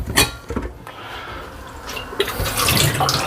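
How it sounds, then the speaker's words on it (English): Water runs from a tap into a kettle, with a few clinks of metal at first, the rushing stream building steadily and loudly. "Always pour out whatever you have in the kettle at the time. Fill it up."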